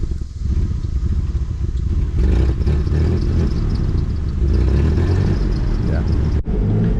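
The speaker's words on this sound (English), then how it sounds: "I have to feather the throttle in park just to keep it going" A rough-running 2004 Ford Explorer idling in park as the throttle is feathered, a loud close rumbling engine with uneven surges and some clatter, while people talk over it.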